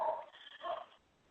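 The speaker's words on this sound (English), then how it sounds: "And that is my dog, if you're hearing that dog." A dog makes two short whining, bark-like vocal bursts in quick succession, fairly faint and indoors, then falls quiet.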